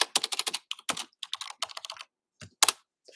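Rapid keystrokes on a computer keyboard, loud and close, in irregular bursts with short pauses and a final cluster of clicks, no talking.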